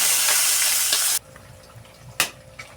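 Chicken fries in a pan with a loud hiss and sizzle that cuts off abruptly, followed by quieter kitchen clinks and a sharp clatter.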